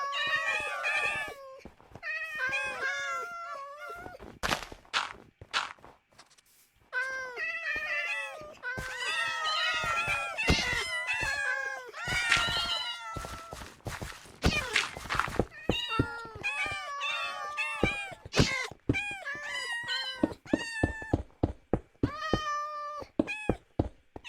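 Cats in a video game meow over and over, a dense run of short, strange, repeated cries with tight rhythmic bursts and clicks, loud and close with no talking.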